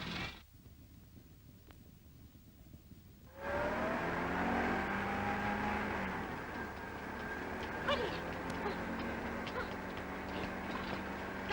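An old 1930s car engine starts up after a short quiet pause and then runs steadily with some revving, loud and close, carrying on without a break.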